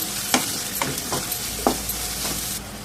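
Onions, curry leaves and green chilies fry in oil for egg rice, a steady close sizzle broken by a few faint knocks and stirs.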